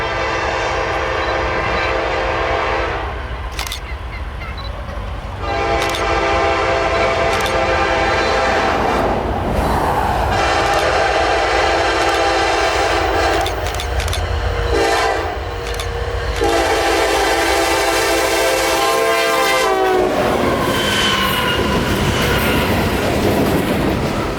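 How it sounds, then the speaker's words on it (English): A loud train roars past close by, sounding its horn in long blasts over the steady rumble and clatter of wheels on the rails. "this train showed up out of the trees and made our cameras and faces light"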